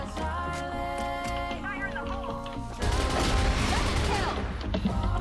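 Rapid automatic fire from a ScarLight rifle in the shooter game CrossFire, a dense sustained burst of shots that grows heavier and louder partway through, with game music and effects underneath.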